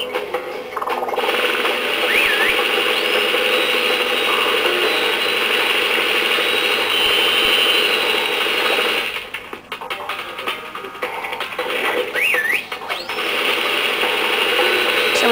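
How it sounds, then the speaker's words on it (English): In the PS2 game Ratchet & Clank, showers of bolts drop and are collected as a continuous metallic clattering and ratcheting jingle. Game sounds play throughout, with brief dips midway. "we're just gonna use a taunter to stand right underneath the platform and let those beautiful bolts fall right on"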